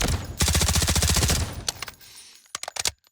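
K416 assault rifle firing in the video game Delta Force, a rapid, loud automatic burst of about one second, followed after a pause by several quick single shots and short taps, close and punchy.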